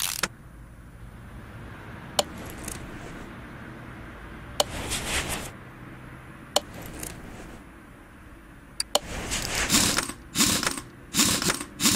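Ratchet clicks from bolting parts onto a junkyard pickup in Car Mechanic Simulator 2018, with several sharp isolated clicks early on, then denser bursts of ratcheting toward the end over a steady background.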